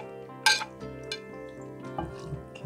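Washed soybean ramen noodles drop into a serving bowl, giving a few soft dish clinks and brief knocks up close, over steady background music with no talking.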